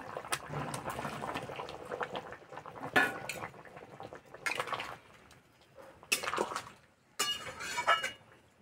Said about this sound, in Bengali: আলু সিদ্ধ হয়ে গেছে, বড়াগুলো দিয়ে দেব।